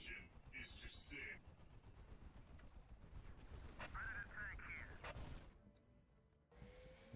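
Gunfire in the Warhammer 40,000 real-time strategy game Dawn of War, during a six-player free-for-all against Imperial Guard, comes as bursts of shots and crashes over a battle din, with game voices heard alongside.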